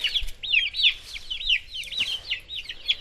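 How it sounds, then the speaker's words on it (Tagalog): Chickens being fed on a farm in the Philippines give repeated close, bright clucks and chirps in a quick, uneven rhythm over faint background noise. "Papainaw at nagpapatuka ng mga manok."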